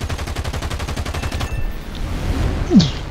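Six 20 mm cannons of the So.8000 Narval firing in a combat flight video game, a rapid evenly spaced stream of loud close shots over about a second and a half, then stopping, leaving engine rumble behind.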